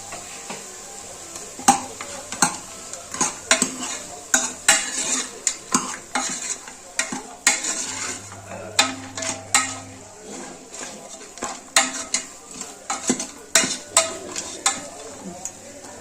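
Ginger-garlic paste frying for a mutton gravy, stirred with a spoon in a pan: repeated rhythmic scrapes and knocks against the metal over a continuous low sizzle, close and fairly loud.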